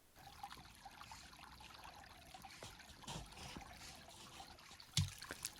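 Spring snowmelt water trickles and dribbles quietly over saturated ground, faint and steady with small splashes and a sharper knock near the end.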